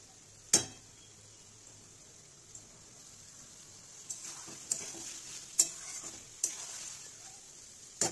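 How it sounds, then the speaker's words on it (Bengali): Chicken with gondhoraj lemon stir-fried slowly in oil over a medium flame: a low, steady sizzle punctuated by several sharp clanks of the spatula against the pan, spaced irregularly. "এইভাবে ধীরে ধীরে ধীরে ধীরে মাংসটা কষাতে থাকবেন, মিডিয়াম ফ্লেমে মাংসটা কষাবেন"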